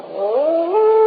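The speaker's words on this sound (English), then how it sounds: "Oh, that was just a dog, Dora." A dog howls outside in a radio drama sound effect, one smooth, drawn-out rising wail heard alone and close, lasting about a second.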